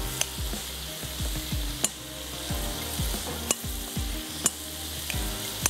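Aubergine pieces sizzle steadily in olive oil in a pan, with a constant crackling hiss punctuated by several sharp clinks and scraping stirs of a utensil against the pan, close and clear with no talking.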